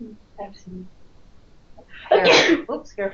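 A single sharp sneeze bursts out in a classroom, loud and close, between quiet stretches of speech before and after.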